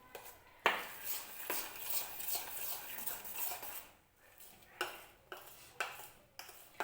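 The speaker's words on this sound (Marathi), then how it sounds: "हे बॅटर छान असं मिक्स करून घ्यायचं आहे आपल्याला." Leftover-rice appe batter being mixed with a spoon in a bowl, giving a string of close clinks and scraping taps, with a loud knock near the start and sharper clinks toward the end, and no talking.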